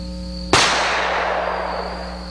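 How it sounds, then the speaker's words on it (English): A Smith & Wesson revolver fires a single 45 ACP round through a chronograph: one sharp, loud crack followed by a long decaying echo, with a steady high whine in the background. "But let's check the 45 ACP first through the chronograph."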